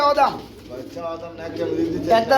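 Pigeons being sold at a market coo several times at close range, soft and rounded, while someone talks over them.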